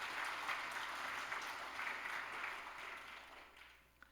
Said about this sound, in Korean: 우리 박수로 미리 한번 축하하겠습니다